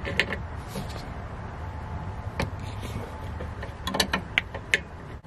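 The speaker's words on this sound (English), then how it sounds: "we're going to start by undoing the end link" A wrench works loose the rear sway bar end link on a 2012 Subaru Outback, giving scattered metallic clicks and ratcheting ticks over a steady low rumble, with a cluster of sharper taps near the end.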